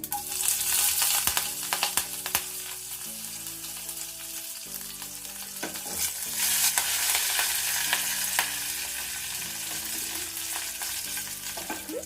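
Mustard seeds, cumin and curry leaves crackling in hot tempering oil for a cucumber dosa chutney, a dense continuous sizzle dotted with sharp pops and stirring scrapes, close up and steady with no talking.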